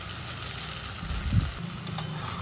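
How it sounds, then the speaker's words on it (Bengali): Steady, soft sizzling of peas and tomato frying with spices in a pan, with a few brief stirring scrapes and clinks; no talking. "কিছুক্ষণ নাড়াচাড়া করে মশলার সাথে মটরশুঁটি আর টমেটোটা একটু ভাজা ভাজা করে নিলাম"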